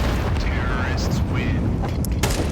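A grenade detonates in Counter-Strike during a competitive match, a dull boom buried in dense gunfire-like noise with excited commentator voices talking over it throughout.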